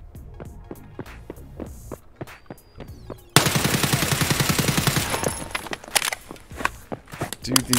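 SA-58 marksman rifle fired in Escape From Tarkov, starting with sharp single shots in an even rhythm, then a dense loud burst of rapid fire, then scattered shots; someone talks briefly.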